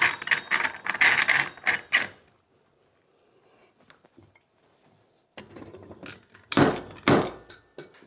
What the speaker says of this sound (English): We simply screw this into the bracket below